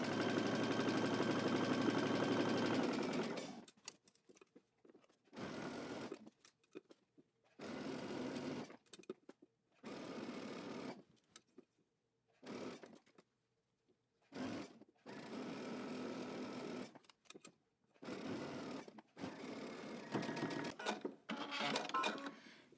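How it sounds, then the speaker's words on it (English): A sewing machine stitches a seam at 3/8 inch allowance, running in short steady bursts of whirring, starting with one long run and then stopping and starting about ten times, close and alone. "we're going to stitch using 3/8 of an inch seam allowance"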